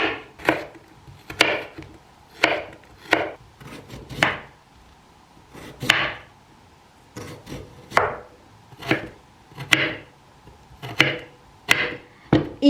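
A kitchen knife slices radish and carrot thinly by hand, giving a crisp, regular run of chops at about one every half second, close and clear with no talking.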